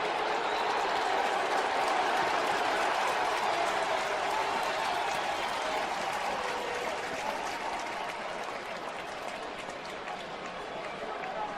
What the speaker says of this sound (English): the crowd saw it on the Jumbotron and they started to react